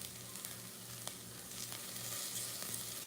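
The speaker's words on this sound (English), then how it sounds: "Okay, so these are sauteing." Soup vegetables saute in a pan with a steady, close, sizzling hiss and occasional stirring clicks throughout.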